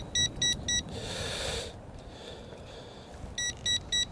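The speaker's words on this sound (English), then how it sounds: "I'm going to push this button on the controller, and you know what? It's beeping" Three quick electronic beeps from a Ruko U11 PRO drone controller during return to home, a short burst of rushing noise, then quiet hiss, and another three-beep sequence near the end.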